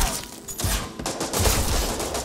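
Heavy, clustered gunshots crack loudly and close in Resident Evil Re:Verse, several rapid blasts overlapping in a chaotic volley with no talk over them.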